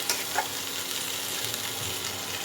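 Potato filling for aloo chop with chopped coriander stirred in a pan, a steady soft scraping and sizzle running throughout at moderate loudness, with no voices.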